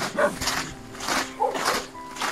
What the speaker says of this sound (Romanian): Din când în când se mai aude câte un câine bătrân.